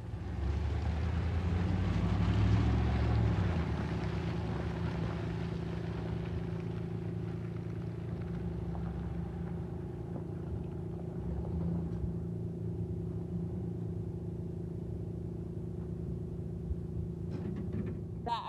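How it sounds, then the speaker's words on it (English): A tractor engine idles steadily in a barnyard, a continuous low rumble with a tonal hum that holds at an even level throughout, with no other sounds standing out. "The tractor is running and can always pull them out if we have to"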